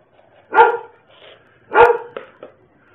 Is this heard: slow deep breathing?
no